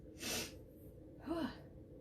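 A single stifled sneeze, a soft breathy burst followed by a short voiced catch, quiet and close with no talking.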